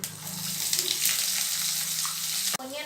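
Chopped onions fry in ghee with a dense, close sizzle and stirring, then an abrupt clatter cuts in just before the end.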